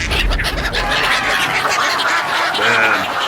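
Several ducks quack in a loud, busy chorus of overlapping calls close by, with no one speaking.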